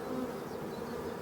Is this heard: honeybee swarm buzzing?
yes